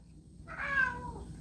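A cat meows once, a single drawn-out call rising and falling in the middle of the moment, fairly close and clear over a low background hum, with no talking.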